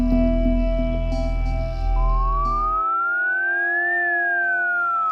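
An ambulance siren wails with a rising and falling electronic tone, loud and continuous over a low rumbling drone that stops partway through.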